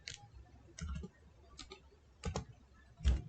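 Short bursts of typing on a computer keyboard, a few quick clusters of clicky keystrokes separated by pauses, close and fairly quiet, with no one talking.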